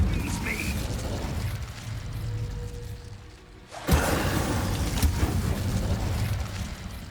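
Combat spell effects in Hogwarts Legacy, including a fire spell: a busy rumble of magic that dips briefly, then erupts in a loud whooshing burst and a few sharp impacts.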